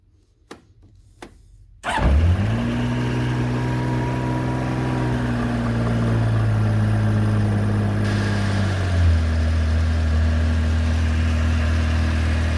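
A 1982 Honda CBX motorcycle engine with new ignition wires and carburetors fires up from stone cold after a few faint clicks, catching abruptly into a loud steady idle that settles lower partway through.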